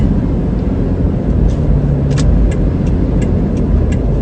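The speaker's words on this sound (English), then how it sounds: "This car is trying to get in." A car on a road with California plates, its engine rumbling steadily and loud as it comes closer, with faint ticking clicks above the low roar.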